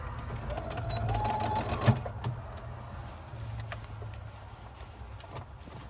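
A sewing machine stitches a quilted purse, with a close mechanical whir that runs steadily and then eases off as the stitching slows.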